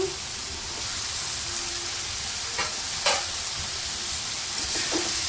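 Hakka noodles and vegetables stir-frying on a high flame give a continuous dense sizzle, with a few brief scraping and clinking touches, and no voices.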